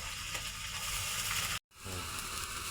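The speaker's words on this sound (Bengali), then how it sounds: "মশলাটা ভালো করে কষিয়ে নিব" An onion, ginger, garlic and cumin paste frying in a pan over a clay stove, a steady close sizzle with a brief silent cut before the frying continues.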